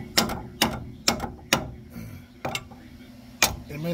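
A hammer taps a ball joint out of a 1999–2002 Chevrolet Silverado 1500 2WD: about six sharp, close metallic strikes at uneven intervals, each ringing briefly.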